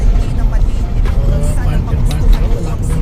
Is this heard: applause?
no